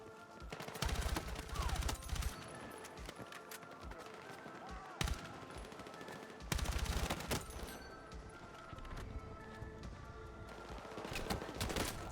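Bursts of rapid gunfire in the shooter game Battlefield 6, with an M4 rifle among the weapons, come in several loud volleys with short pauses between them.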